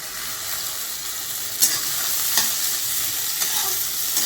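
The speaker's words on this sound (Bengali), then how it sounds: "এবার আমি কাজু কিশমিশ আর নারকেলটা ভালো করে ভেজে নেব ঘিয়ের মধ্যে।" Coconut, cashews and raisins fry in hot ghee, giving a constant close sizzle with a few sharp scraping ticks as they are stirred around the pan.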